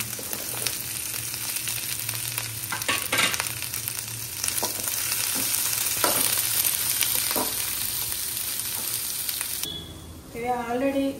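Capsicum and onion frying in a pan give a steady, loud sizzle with scraping stirs throughout, easing off near the end as a faint voice briefly comes in.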